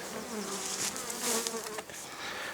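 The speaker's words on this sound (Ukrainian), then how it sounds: "Сюди злетіла льотна бджола." A dense, steady buzz of many bees flying close by at a log hive, continuous and busy throughout, with no voices.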